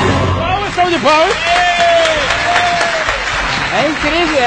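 Studio audience applause for a live TV illusionist's act, clapping mixed with whoops and excited shouts and a host's voice over it, loud and lively throughout.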